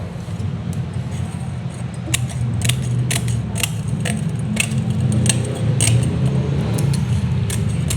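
Scissors cut through a piece of mesh screen being trimmed for a sink drain, giving a string of sharp, separate snips about every half second over a low background hum, with faint talk nearby.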